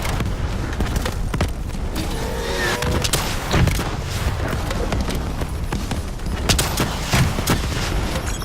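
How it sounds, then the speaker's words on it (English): Missile barrage and rapid gunfire in the Call of Duty: Black Ops 3 video game, a dense, continuous roar of repeated blasts and impacts at steady loudness throughout, with no speech. "Malevolent missiles incoming!"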